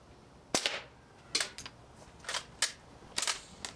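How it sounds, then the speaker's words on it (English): Sharp cracks from an 1866 lever action air rifle, about five crisp shots spaced under a second apart, some followed by a quick mechanical clack of the lever, close and fairly loud with no talking. "So let's continue shooting. I think this might be last shot."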